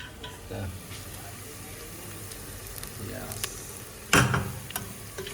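A spicy tempering for mutton sizzles in a hot pan, with a low steady frying hiss and brief stirring scrapes, then a sudden loud burst of sizzle near the end, heard close up.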